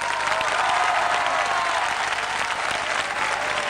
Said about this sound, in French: Merci pour tous ces applaudissements.